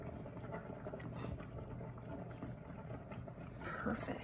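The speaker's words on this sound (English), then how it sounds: "So as this continues to boil, I'm gonna continue stirring this, checking on the thickness of it." Alfredo sauce boiling in a pan gives a faint, steady bubbling simmer with soft stirring, close and low throughout.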